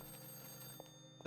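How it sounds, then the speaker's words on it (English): An old-fashioned telephone bell ringing steadily, a continuous electric trill heard alone at moderate level, with a couple of faint knocks near the end. "the phone is ringing."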